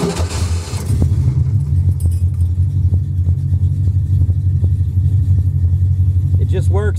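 Hot rod car engine on a road trip cranking and firing up, then settling into a loud, steady low rumble that runs throughout, with a few faint clicks and a brief high whine near the end.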